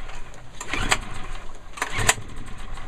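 A Yamaha EF600 portable generator, hard to start since oil flooded its carburetor, is given two pull-start attempts that make short sputtering bursts over a steady background hum.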